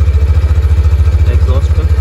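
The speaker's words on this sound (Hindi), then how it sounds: "एग्जॉस्ट ऑन करके देख लेते हैं एग्जॉस्ट इनका कैसा साउंड करता है।" Hero Xtreme 160R motorcycle idling close by, a steady low thumping exhaust pulse that runs evenly through the whole moment.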